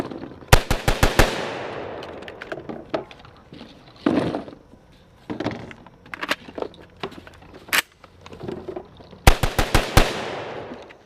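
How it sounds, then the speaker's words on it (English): An Origin 12 shotgun firing 12 gauge rounds outdoors, with sharp, loud shots in rapid strings of about five, then single and scattered reports, and another quick burst near the end. "So let's do a little bit of shooting with it"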